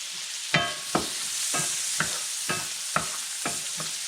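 Garlic and onion sautéing in a pan until golden brown, a steady sizzle under about seven sharp scraping stirs of a spatula at roughly half-second intervals, close and moderately loud with no talking.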